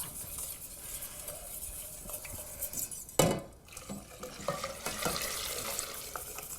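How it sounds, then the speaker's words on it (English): Hot milk is whisked into a white sauce in a pan on the stove for mac and cheese. A quiet, busy scrape and clink of the whisk runs throughout, with a sudden splash and sizzle midway as the milk goes in. "now I just want to slowly add the hot milk, and you'll see the whole thing becomes a really nice, thick, white sauce"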